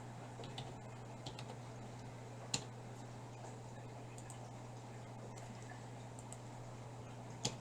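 Sparse computer keyboard keystrokes, a few soft clicks and one or two sharper taps spread over a steady low electrical hum, with no voices.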